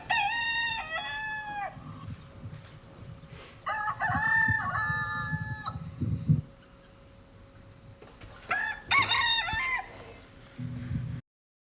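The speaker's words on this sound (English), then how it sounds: "In that moment the cock crowed." A rooster crows several times in a row, loud and close, each call rising and falling, with short pauses and low background rumble between calls.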